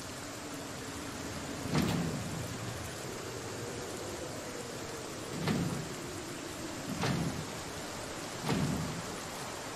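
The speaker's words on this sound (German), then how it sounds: "Auf jeden Fall gerade ein Sturm, wie es aussieht." Rain and a thunderstorm in the video game Project Zomboid: a steady wash of rain under four sharp, fairly distant thunder cracks spaced a few seconds apart, with no voices.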